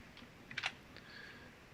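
Someone presses Shift and F3 on a computer keyboard. A few faint, quick key clicks come close together, followed by quieter taps, in an otherwise hushed room.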